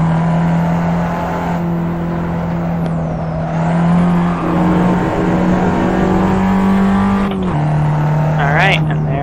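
A Fiat 500 Abarth engine drones loud and close in a Kunos racing game, holding a steady high-revving tone through a corner with a brief shift dip near the end, and a voice talks over it.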